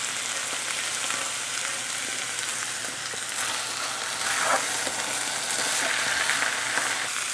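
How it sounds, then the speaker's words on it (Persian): Celery for a Persian celery stew sautés in a hot pan with a loud, steady sizzle and occasional stirring scrapes, close to the pan with no talk. "یه 3-4 دقیقه تفت خور که کرفس‌ها رو هم می‌ریزم."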